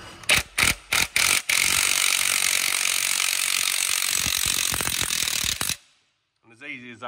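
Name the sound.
compact bearing puller pulling bearing off Vaderstad drill disc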